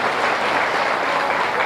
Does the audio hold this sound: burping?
no